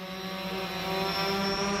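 Drone flying overhead at a Fourth of July gathering in Texas: a steady, buzzing propeller whine holding a constant pitch and slowly growing a little louder, heard alone with no talk.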